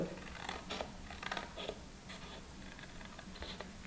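Scissors snip through a folded paper gift pouch in a quiet indoor craft setting, a few short crisp cuts and scratchy rustles spaced irregularly over low background hiss.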